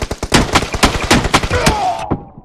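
Rapid Kar98 rifle shots in a team deathmatch game, a dense run of loud sharp cracks at a quick uneven pace, close and punchy, ending with a brief ringing tail.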